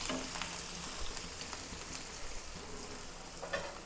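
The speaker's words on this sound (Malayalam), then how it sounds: "നമുക്കിതിലേക്ക് വെളുത്തുള്ളി, ചെറിയ സവാള, 2-3 പച്ചമുളക് കട്ട് ചെയ്തതാണ് ഇട്ട് കൊടുക്കാം." Chopped garlic, small shallots and green chillies fry in a pan with a soft, continuous sizzle and faint crackles, quiet and alone.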